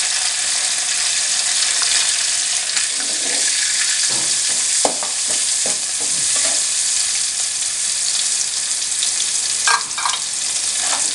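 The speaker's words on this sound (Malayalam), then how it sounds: "ഇളക്കുന്നു" Food sizzles steadily in a pan as ginger and other ingredients are stirred, a dense continuous frying hiss with scattered scrapes and clinks of the spoon throughout, close and fairly loud.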